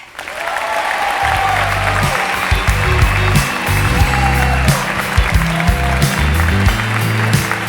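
Audience at an awards gala applauding a pop rock artist of the year winner: dense, loud, steady clapping from a large crowd that fills the whole stretch, with faint voices and music underneath.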